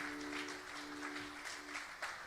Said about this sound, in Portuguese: Você pode dar uma salva de palmas ao Senhor pela vida do pastor Adriano.